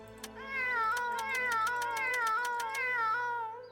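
A single cat in the video game Lost Grimoires gives a long, drawn-out wailing meow that wavers in pitch, loud and clear with nothing else behind it, rising and then fading away.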